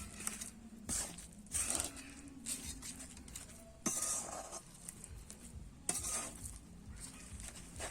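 A spatula stirs and scrapes dudh puli filling around a wok in irregular bursts, with a soft sizzle underneath between strokes.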